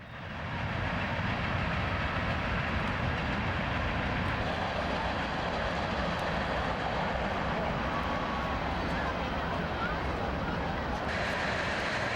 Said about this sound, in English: train action is like bonus video here.